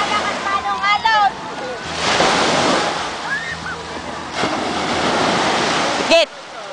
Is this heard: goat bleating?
no